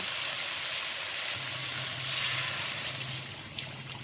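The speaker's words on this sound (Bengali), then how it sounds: "এবার আমি অল্প করে জল দিয়ে দেব" Water poured into a pan of frying paneer and egg curry, giving a loud, continuous sizzle and hiss up close that swells briefly midway and eases near the end.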